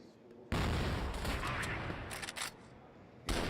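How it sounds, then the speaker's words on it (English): Dense gunfire from a 4v4 esports match of the video game CrossFire, with bursts of shots and automatic fire layered into a loud, continuous barrage that drops off briefly near the end before resuming. "Shots over there towards house"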